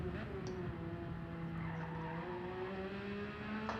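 Car tires skid under heavy braking in Gran Turismo 7, a sustained squeal over a droning race-car engine that holds steady for several seconds.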